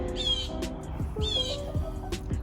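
A pet bird squawking indoors, several sharp, loud calls in quick succession with harsh sweeping tones, heard close by and alone without talk.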